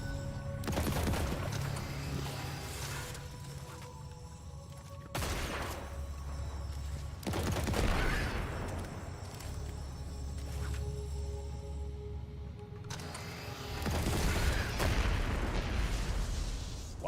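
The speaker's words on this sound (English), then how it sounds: "Wow, that was a lot of explosion." Explosions and bursts of gunfire from a Destiny 2 firefight, heavy booms landing repeatedly every few seconds over continuous crackling shots, loud and close.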